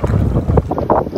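Kayak paddling on open sea water off St. Thomas, with steady wind buffeting the microphone and low splashing and water movement running continuously throughout, no talking.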